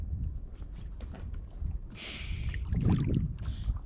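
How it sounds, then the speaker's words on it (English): A canoe or kayak is paddled on a lake amid smoky haze, with low splashy water strokes and gurgling close by, broken by a brief hissing splash, and no talk. "Somebody doesn't know how to paddle a canoe, kayak, whatever we're in."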